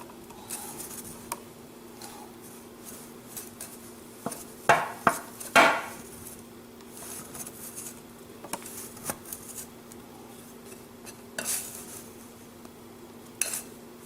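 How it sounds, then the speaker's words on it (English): A whisk mixes brew enhancer of malt and maltodextrin in a container. It gives faint scattered taps and scrapes, then a quick cluster of louder clinks midway, with a low steady hum running underneath. "I take a whisk. We're just going to try to mix everything up nice and even."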